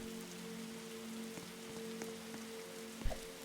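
Steady rain falling in a Roblox forest survival game, a constant soft patter with a low hum underneath and one brief thump near the end.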